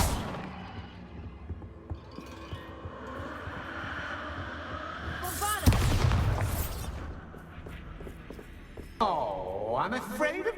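Bombarda spell explosion in a Harry Potter video game set in Hogsmeade, a sudden loud blast midway with a swelling magical whoosh, surrounded by low ambient hum and a later sweeping effect.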